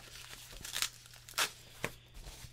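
Packing tape tearing away from Razer Deathstalker keyboard packaging during an unboxing, with a few short crackly rips and crinkles, two of them louder bursts, close up and without talk.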